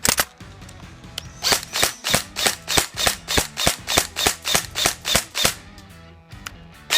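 A CM16 airsoft rifle firing about fifteen sharp, evenly spaced shots in a quick semi-automatic rhythm, loud and close, with a single shot before and after the run.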